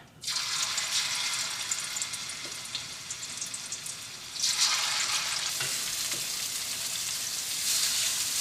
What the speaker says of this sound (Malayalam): നമ്മുടെ എണ്ണ നന്നായിട്ട് ചൂടായിട്ട് ഇനി നമുക്ക് ഇതിലേക്ക് മീനിടാം